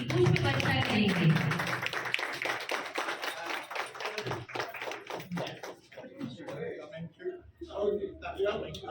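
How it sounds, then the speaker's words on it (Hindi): Applause breaks out at a Mother's Day event at a girls' senior secondary school, a dense burst of clapping that fades as a voice speaks over it. "एक बार हम सभी तालियों की पुष्प वर्षा करेंगे।"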